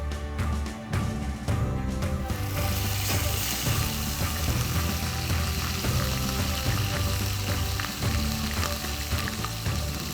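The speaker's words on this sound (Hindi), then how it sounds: "इसमें हम डालेंगे 1/4 छोटा चम्मच जीरा, और इस जीरे को जैसे ये क्रैकल करता है" Cumin seeds and ginger fry in hot oil, crackling and sizzling steadily up close, with a sudden louder burst of spitting about two seconds in as the ginger goes into the pan.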